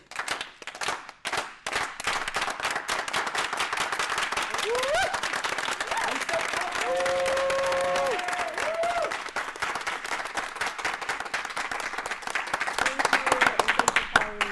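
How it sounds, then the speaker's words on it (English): Group unity clap closing a community workshop at a clean power conference: dense, sustained clapping from many hands building to a loud, steady roar, with a few voices calling out near the end. "And we'll end with the unity clap as Niall."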